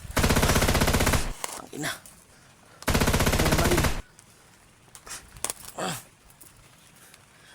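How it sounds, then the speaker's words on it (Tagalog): Two long bursts of rapid gunfire ring out close by among houses, each lasting about a second, with a shouted voice and scuffling movement in the pauses between and after. "May namaril mga tol. Binaril ako."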